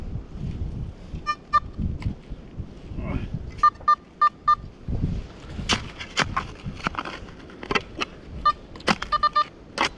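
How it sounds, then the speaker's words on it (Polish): A metal detector gives short high electronic beeps in clusters and rapid bursts while searching for coins and relics, scattered between rustling and handling noise, with a voice talking in Polish now and then. "Jest większe natężenie dźwięku, czyli jest sygnał."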